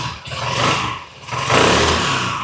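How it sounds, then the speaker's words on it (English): A 1983 Yamaha Riva 180 scooter engine that starves for fuel under throttle, revved twice nearby: two loud rising swells, each dropping back briefly, the second stronger and longer. "So when I give it a lot of gas, it starves for gas."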